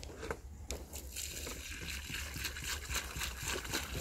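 Water poured from a container onto freshly turned soil around a newly replanted seedling in a field, a soft steady sloshing and splashing close by, running continuously for about four seconds with no talk over it.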